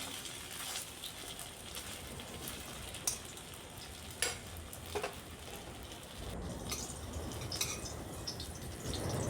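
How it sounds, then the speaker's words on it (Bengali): Flipped spiny gourd (kakrol) slices sizzle in hot oil, a continuous close crackle with occasional sharper pops and spatters running throughout. "এগুলাও একদিক হয়ে যাওয়ার পর অপর দিকটা উল্টে দিচ্ছি"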